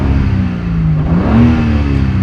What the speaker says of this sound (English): So a little rev like that just took 180 Newton meters.